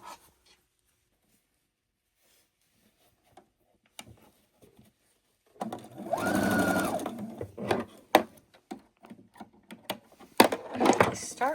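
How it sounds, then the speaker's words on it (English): A sewing machine stitches quilt blocks in a short whirring burst of about a second, followed by scattered clicks and handling noises of fabric being repositioned, close and fairly quiet after near silence. "And back to sewing."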